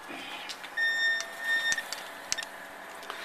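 A Behmore 1600 home coffee roaster gives a short, faint electronic beep as it starts, followed by a few soft ticks and clicks in a quiet room.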